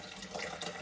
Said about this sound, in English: I just simply pour in water till it gets up to the